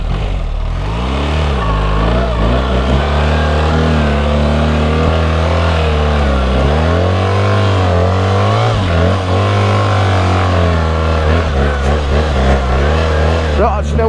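Off-road vehicle with traction control off, revving hard along a desert track, its loud engine note climbing and dipping steadily throughout, with a voice heard over the drone.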